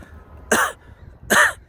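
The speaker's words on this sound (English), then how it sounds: "Cough was kind of a coarse cough." Two harsh, dry coughs from a COVID-19 patient, close and evenly spaced, with quiet between them.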